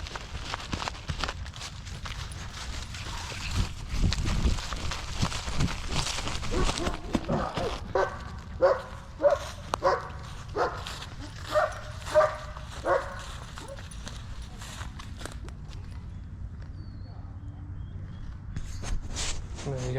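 Dogs barking at a busy park with people around: a run of short, sharp barks in the middle stretch, moderately near, with footsteps and general outdoor bustle before and after.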